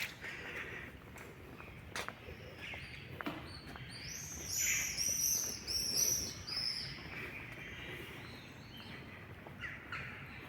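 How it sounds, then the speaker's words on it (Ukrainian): High chirping bird calls rise over a steady outdoor hum on a Kraków city street, brief bursts of song clustered together, moderately distant, with occasional footsteps or thuds. "Пташки співають."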